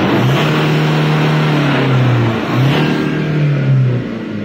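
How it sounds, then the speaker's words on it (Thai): Toyota Revo pickup engine after ECU tuning, revved twice in close succession, each blip climbing then dropping back, loud and close with no talking. "พี่ลองเบิ้ลใหม่ผมจะฟังชัดๆ"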